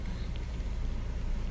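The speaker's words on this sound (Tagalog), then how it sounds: "Traffic dahil sa baha" Road traffic crawling through a flooded street, a continuous low rumble of engines and tyres in water that stays steady and fairly loud throughout, with no clear talking.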